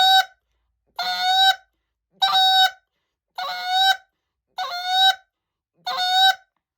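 Six evenly spaced honks from a goose call, each a held, reedy note about half a second long, loud and close with short silences between.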